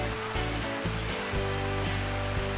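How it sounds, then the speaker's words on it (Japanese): The Kamuiwakka hot spring waterfall in Shiretoko, Hokkaido, gives a steady, full rushing roar, with tonal music laid over the falling water throughout. "オープニングの映像は知床のカムイワッカ湯の滝"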